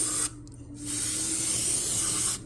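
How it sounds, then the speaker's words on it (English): Brake cleaner sprayed onto the front and rear brakes of a 2023 Genesis G70 2.0T during a pad replacement: a loud, steady aerosol hiss that pauses briefly, then resumes in a long continuous burst, close to the ear with no talking. "Brake cleaner goes out fast because it's like the best tool to use"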